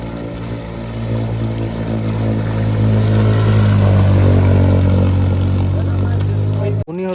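A motor boat pushes through deep flood water on a road in Assam, its engine a steady mid-pitched drone that swells slightly in the middle before a brief dropout near the end.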